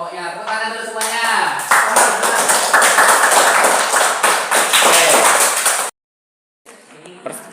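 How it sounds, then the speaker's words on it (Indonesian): A class of Catholic religion students in a Year 9 junior high classroom claps together for a group, with dense clapping rising after a spoken voice and stopping abruptly near the end. "Tepuk tangan dulu semuanya."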